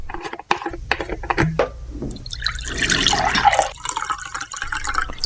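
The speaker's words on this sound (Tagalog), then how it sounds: "Pakiabot mo nga ako ng tubig, Romel." Water poured into a cup or glass makes uneven splashing and trickling, close and clear, with small clinks and drips scattered throughout and no talk.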